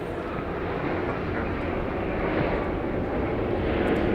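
A Southwest jet lands at Dallas Love Field with spoilers up and thrust reversers deployed, giving a steady, building roar at moderate distance that swells slightly toward the end.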